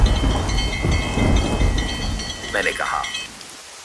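Rain falls steadily on a rainy night near an old haveli, with a low rumble of thunder underneath. A narrator speaks briefly over the rain, and a thin chime-like ringing hangs in the background.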